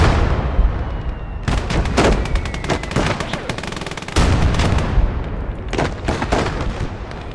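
Machine gun fire and artillery in the war strategy game Blood Red Snow: dense, continuous rattling bursts with booming impacts, loud and close, sustained throughout without pause.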